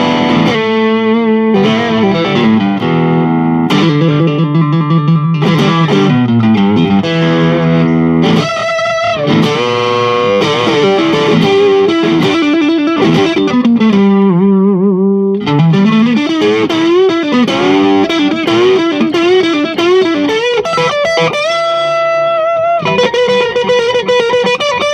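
An electric guitar plays through a vintage white-label Maxon SD-9 Sonic Distortion pedal, with loud, continuous overdriven chords and single-note lines and sustained crunchy tone throughout.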